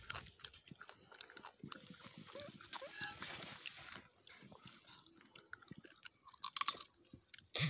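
Quiet, close chewing and crunching sounds from someone eating at a riverside picnic in the Sundarbans, soft irregular bites under occasional talking and outdoor background noise.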